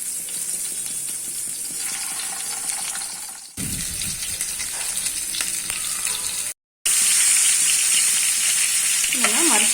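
Marinated chicken sizzles and fries steadily in a pan, a loud continuous crackle with occasional stirring clatter and a brief cut near the end.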